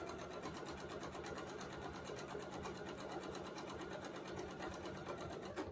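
A sewing machine stitches quilt fabric guided on a Sew Steady suspension system, running in a steady, continuous rapid whir that stays loud and unbroken throughout with no pauses.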